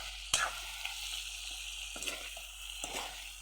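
Spiced duck meat fries in its released oil, a faint, continuous sizzle with scattered crackles and a few sharp stirring knocks, close and quiet.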